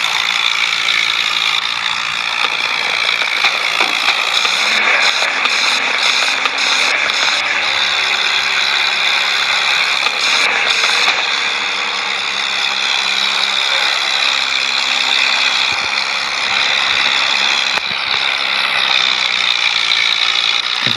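A tractor engine labours uphill in a tractor driving video game. The synthetic motor drone is loud and steady, with rising and falling engine tones and clicking mechanical noises throughout.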